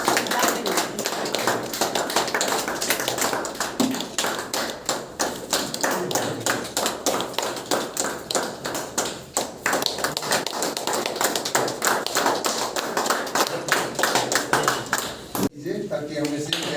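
Audience applause at a felicitation programme for outgoing and incoming DTO officers in Itanagar, dense steady clapping filling the room for about fifteen seconds before stopping abruptly near the end.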